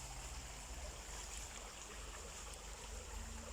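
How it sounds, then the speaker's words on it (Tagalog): A small river stream flowing steadily outdoors, a soft, continuous wash of running water heard from a little distance, fairly faint, with no talking. "Yan, maliit na ilog."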